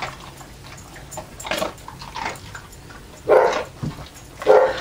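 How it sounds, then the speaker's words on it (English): Dogs eat from homemade treat dispensers, with scattered crunching, clinks and nosing sounds coming in short uneven bursts, two of them louder near the end, over a quiet indoor background. "and they're eating."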